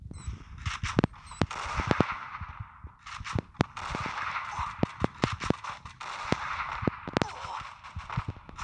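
Scattered gunshots crack sharply in irregular bursts over a hissing background, some single shots and some quick clusters.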